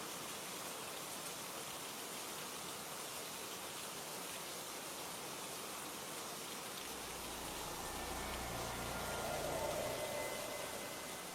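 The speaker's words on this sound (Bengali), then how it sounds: "বৃষ্টি" Steady rain falling at night, a dense continuous patter and hiss with no pauses and a faint low rumble underneath toward the end.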